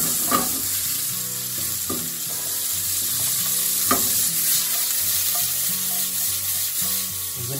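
Onions frying in a pan with a little oil after mushrooms, a steady dense sizzle with periodic scraping stirs of a utensil against the pan, close and without talk.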